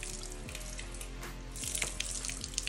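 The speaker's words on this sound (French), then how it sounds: "tu viens la tremper, puis tu la squeeze pour que la saleté elle sorte" Sponge being dipped in water and squeezed out during a car wash, giving a steady wet sloshing and trickling with brief drips, fairly close and alone with no talk.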